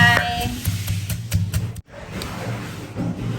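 A pestle pounds papaya salad ingredients with rice noodles and squid in a mortar, giving quick, regular thumps that stop abruptly, then resume more sparsely after a brief silence.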